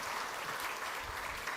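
Conference audience at a semiconductor event clapping together, a faint, steady wash of applause heard from a distance without pauses.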